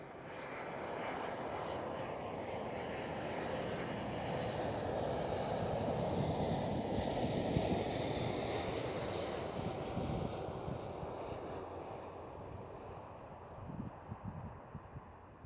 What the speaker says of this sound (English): Next one up is this 777 with the KLM Asia livery.